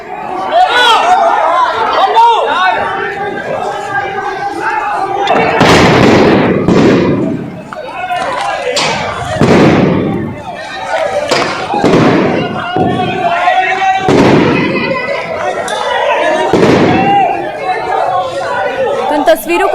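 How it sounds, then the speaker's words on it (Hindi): Street violence in Kanpur during stone pelting: a noisy crowd shouts and chatters constantly while more than a dozen loud explosive bangs burst out, some near and heavy, in uneven clusters. "धमाकों की आवाज आप साफ तौर पर सुन सकते हैं।"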